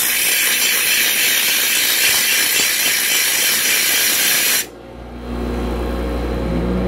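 Rough flattening of a raw aluminum casting gives a steady, loud, hissing grind across the first four and a half seconds, then cuts off abruptly, leaving a quieter low hum.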